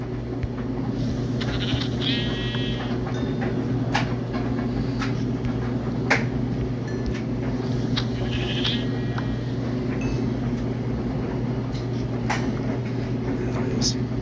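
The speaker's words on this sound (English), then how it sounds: "There's the sheep we need." Sheep in Minecraft Pocket Edition (Bedrock) give two short bleats, one early and one later, over a steady background hum.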